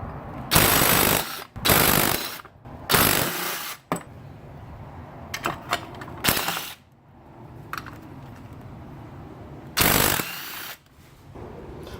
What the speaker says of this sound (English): Hub, impact driver, 13 millimeter deep socket.